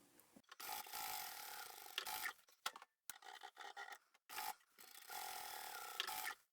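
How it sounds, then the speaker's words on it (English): A sewing machine stitches through layered quilted patchwork and stabilizer for a scrappy fabric pouch, running in close, steady bursts that stop and restart several times with short pauses between runs. "So now I'm just going to continue all the way to the end and keep on sewing"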